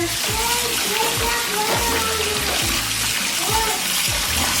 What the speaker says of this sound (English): So I'm just gonna turn on the water.